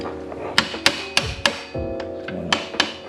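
A hammer gently taps a bolt through a motorcycle sprocket during installation, giving about nine sharp metallic knocks in an even rhythm, close and clear with no talk.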